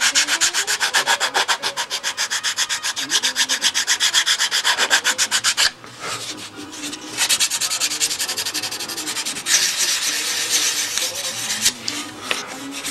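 Steady rhythmic sanding and rasping on a wooden edge of a Stuka model aircraft, rapid back-and-forth strokes close up, briefly pausing then resuming in irregular scraping passes, with no talking.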